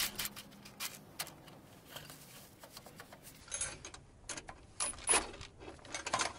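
Faint, irregular mechanical clicking and ratcheting as a car is jacked up with a homemade impact-wrench adapter jack fitted with a ring bolt and flange nut, heard close and quiet with scattered clunks.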